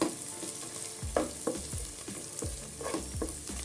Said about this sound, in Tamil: இதை லைட்டாக வதக்கிக்கோங்க.